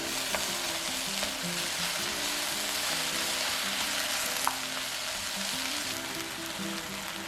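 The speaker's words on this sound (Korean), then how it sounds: "다진 마늘 반 숟가락, 진간장 2숟가락, 자른 대파 중 나머지 초록 부분을 넣고 골고루 볶아줍니다." Minced garlic, soy sauce and green onion tops stir-fry in a hot pan, giving a steady, close sizzle with soft scraping from stirring throughout, and no talking.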